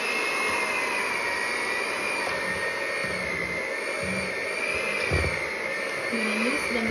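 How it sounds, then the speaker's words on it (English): An electric mixer runs continuously as it beats peanut butter cookie dough, giving a steady, loud whirring drone with faint knocks against the bowl. "Peanut butter cookies. I'm gonna mix this."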